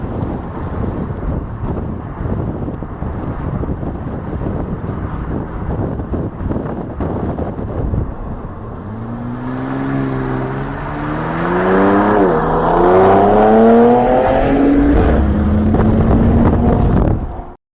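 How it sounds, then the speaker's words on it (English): A 2025 Ram 1500 RHO pickup test mule goes by loudly, its engine note rising through the gears with audible shift drops, over heavy wind noise on the microphone. "Car and Driver got some video of one of the test mules of the RHO"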